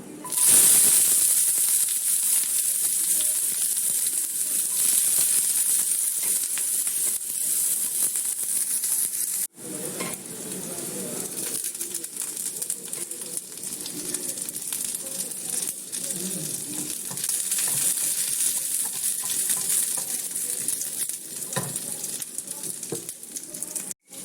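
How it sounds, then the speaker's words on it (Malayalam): Mustard seeds crackling and sizzling in hot coconut oil for a tempering, a continuous bright hiss with scattered pops, briefly interrupted partway then resuming at a steady moderate level. "വെളിച്ചെണ്ണ ഒഴിച്ചിട്ട് കടുകിട്ട്"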